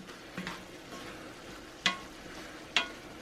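Meat, mushrooms and beans cook in a cast iron pan, giving a steady low sizzle with a few sharp stirring scrapes and clinks. The scrapes fall at irregular intervals and sound close.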